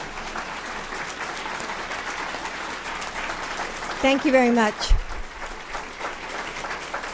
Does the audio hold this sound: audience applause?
yes